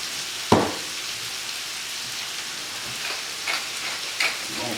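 Pork steak and potatoes frying in a pan with Worcestershire sauce: a steady, moderate sizzle runs throughout, with a sharp clack near the start and a few soft crackling bursts later.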